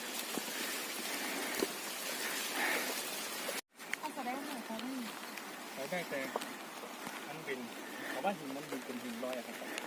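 Steady rain hisses and patters throughout while someone talks over it on a trail at a three-way junction, with a brief cut in the sound partway through.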